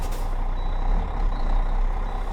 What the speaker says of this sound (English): We're going to go ahead and give our tractor a little bit of gas